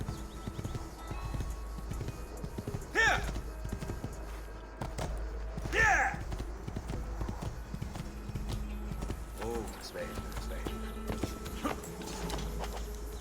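Rhythmic hoofbeats of a horse moving at pace in Assassin's Creed II, with a couple of brighter tonal chimes over a steady low rumble.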